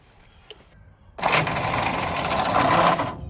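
A 1953 White WC tractor engine, started for the first time in over 30 years, runs loud and steady with a rattly mechanical clatter after a quiet lead-in.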